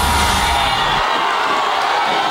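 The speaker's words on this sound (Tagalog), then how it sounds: "Sa labas ng BPI Julia Vargas sa Pasig, kanya-kanyang hiyawan ang mga bumabatikos kay Davao City Mayor Rodrigo Duterte at mga taga-suporta ng alkalde" Protesters and supporters of Davao City Mayor Rodrigo Duterte shouting outside the BPI Julia Vargas branch in Pasig, a loud, continuous crowd roar of overlapping yells and cheers filling the whole stretch.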